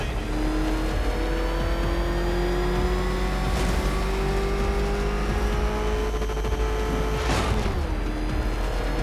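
The Batmobile's engine in Batman: Arkham Knight revs with a rising, sustained growl that stays loud and close for the whole stretch, with brief whooshes and a drop in pitch near the end.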